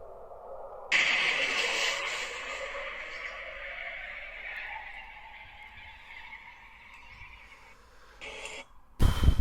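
A played-back recording of a vortex cannon: a sudden loud broadband whoosh that swells in at about one second and holds as a long roaring sweep, fading slightly before a sharp loud burst at the very end.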